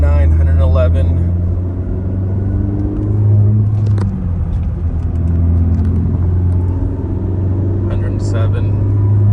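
A 4th-gen Mazda 3 fitted with a Corksport short ram intake accelerating on the road into sixth gear near 60 mph, a low steady engine drone with rising rumble heard from inside the cabin, with a voice talking over it.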